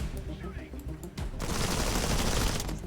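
Sustained volley of gunfire from units in the video game Zephon, a dense crackling fusillade that breaks in about halfway through and keeps going steadily, with faint talk near the start.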